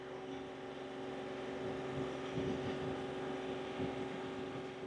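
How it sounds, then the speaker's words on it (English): Steady broadband rush of air being forced out of a drained system as a pump charges it with water, continuous and fairly loud, with low gurgling surges and a faint hum underneath. "I can feel the air pressure coming out of there. It's flowing."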